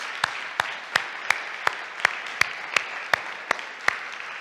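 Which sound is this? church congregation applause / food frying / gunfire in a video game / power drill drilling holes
church congregation applause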